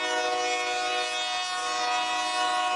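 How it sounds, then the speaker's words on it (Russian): A train passing near a parked truck with a running reefer unit, its horn sounding as a loud sustained tonal blast over rolling rail noise, heard alone without talk. "Поезд."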